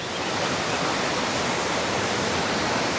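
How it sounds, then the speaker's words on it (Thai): Huay Kaew waterfall in Chiang Mai, Thailand, pours as a dense, continuous roar of rushing water, loud and close, with no voices over it. "จะหมดจะจุ่มได้ยินเสียงน้ำตกแล้วเนาะเนี่ยน้ำตก"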